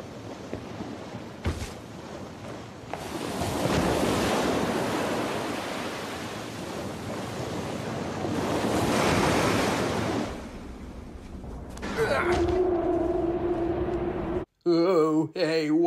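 Ocean waves and wind roar around a sinking ship in a video game, a broad rushing wash that swells and fades in long surges, with a brief low thump early and electronic tones near the end.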